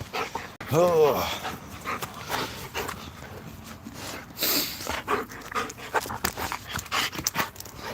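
A wild, bite-prone pet dog gives a brief rising whimper near the start, then pants on and off, close by, with people talking over it.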